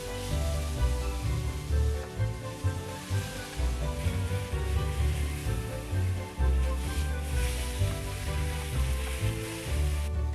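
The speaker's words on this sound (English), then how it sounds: "Sear it off good on all sides. Make sure your pan is hot." Beef for a Beef Wellington searing in a hot pan, a steady loud sizzle and crackle of frying that runs the whole time without pause.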